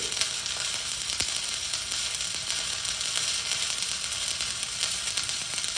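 A stick welding arc crackles and sizzles close up in a dense, steady stream, with scattered sharper pops rising above the constant hiss and nobody talking.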